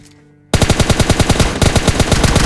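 Rapid automatic gunfire in PUBG Mobile Lite, a duo-versus-duo fight with M416 and S12K weapons, bursts in loud and close after a quiet half-second lead-in, with evenly spaced shots rattling on to the end and no talk.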